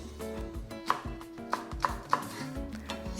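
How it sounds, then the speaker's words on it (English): Knife chopping green onion on a cutting board for kimchi seasoning, a quick run of crisp close thuds with a few sharper knocks. "Chop the green onion"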